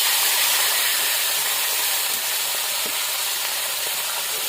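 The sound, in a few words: fish frying in hot oil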